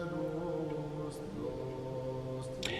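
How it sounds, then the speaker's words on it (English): Sustained harmonic voices holding low, droning pitches in a slow, reverberant Gregorian chant, steady and continuous with no break, as if sung in a stone undercroft. "Now if you never heard a Gregorian chant, it sounds a bit like this"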